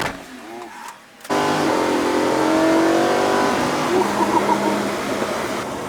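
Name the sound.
car accelerating smoothly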